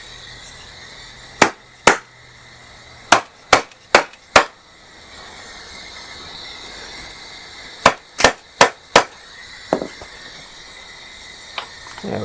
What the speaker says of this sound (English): it just took a couple of good smacks with the hammer